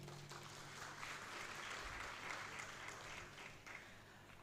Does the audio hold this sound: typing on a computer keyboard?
no